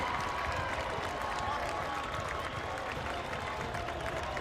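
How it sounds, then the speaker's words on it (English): A college soccer crowd at a Maryland versus Ohio State match applauding and cheering after a goal, a steady distant wash of clapping and crowd noise. "The Terps give the crew something to cheer about, and it's 2-1."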